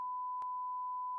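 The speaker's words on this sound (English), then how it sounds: "I only have room enough for one beep" A single steady electronic beep, a pure sustained tone with faint clicks at its edges, sounds alone and clean.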